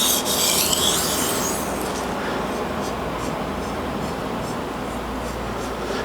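Japanese chef's knife sharpened on a whetstone, steady gritty rubbing strokes close up, louder and brighter at first then settling into a continuous rasp.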